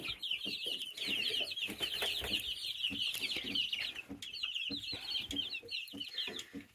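Baby chicks in a barnyard mix flock cheep in quick, high bursts over soft clucking, a busy, close chatter that keeps going with short pauses.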